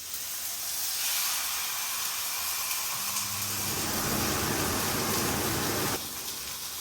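A whole piece of lamb browns in a hot pan with a loud, steady hiss that swells and rises for several seconds before easing back.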